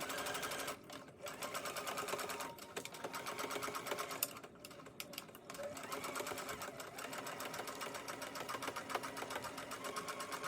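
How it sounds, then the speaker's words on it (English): A sewing machine stitches fabric for a face mask, running in a steady continuous whir close by, with brief pauses and changes in speed; no talking. "So now I'm going to put my presser foot down, and I'm just going to sew down to the other end."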